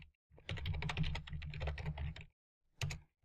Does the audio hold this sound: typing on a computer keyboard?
yes